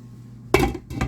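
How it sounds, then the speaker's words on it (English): A metal lid set down onto a cooking pan of meat, giving one sharp clink followed by a second lighter knock a moment later, close and fairly quiet. "lid on"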